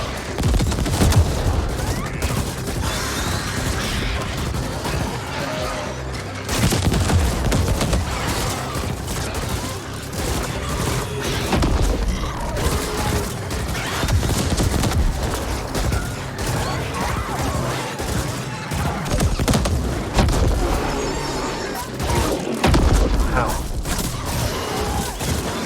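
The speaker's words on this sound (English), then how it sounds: "I'm gonna have to use the bigger gun." Heavy gunfire from a bigger gun in the video game Ascent comes in rapid bursts of loud booming shots with thuds and mechanical clatter, while a player talks over the action.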